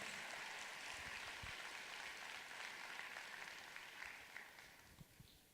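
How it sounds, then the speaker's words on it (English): An audience at a company event honouring Rex and his family claps steadily, a broad wash of hand claps that slowly fades toward the end. "So give them a fantastic applause."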